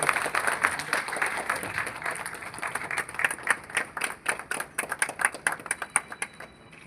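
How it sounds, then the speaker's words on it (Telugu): An audience at a CCTV camera inauguration event applauds to welcome a district SP. Brief claps build into steady, moderately loud clapping from a crowd. "ఒకసారి గట్టిగా చప్పట్లతో సార్కు స్వాగతం పలకవలసిందిగా కోరుచున్నాం సార్"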